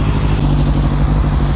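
A Kawasaki Z1000 SX motorcycle engine idles while warming up, a steady, loud, close rumble with an even low throb and no revving throughout.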